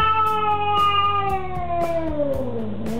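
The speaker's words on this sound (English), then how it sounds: "This is the furious cat you'll ever see in your life." A cat lets out a long, loud, drawn-out yowl that slowly falls in pitch, growling and wavering throughout, close and alone.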